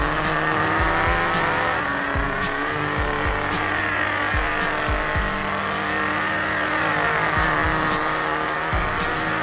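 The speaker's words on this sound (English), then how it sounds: "Let the engine break in." A nitro RC car engine, small and high-revving, buzzes continuously while being broken in, its pitch rising and falling as it circles in figure eights, with occasional tire squeals.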